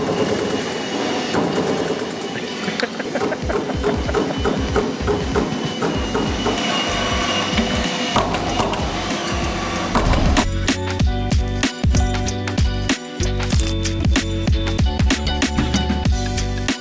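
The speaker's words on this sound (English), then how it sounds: "If you ever want to know if fabrication is in the building, just listen for the machine." A metal fabrication machine for cutting galvanized sheet runs loud and near, a dense clattering roar that turns into rapid, repeated sharp mechanical hits and rattles.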